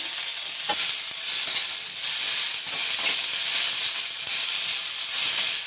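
Chicken fries and is stirred in ghee with coriander and mint for a Karnataka-style gravy, giving a loud, close, constant sizzle with rhythmic scraping stirs throughout.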